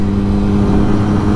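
Triumph Daytona 675R motorcycle with a Scorpion exhaust, a loud, steady, deep engine rumble heard close up without talking.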